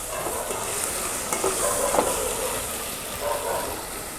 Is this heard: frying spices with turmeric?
yes